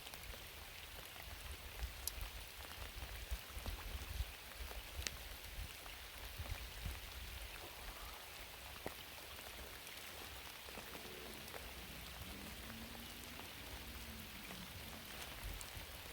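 Steady rain patters on lake water outdoors in overcast weather, a soft continuous hiss of drops with faint scattered ticks, quiet and even throughout with no voices.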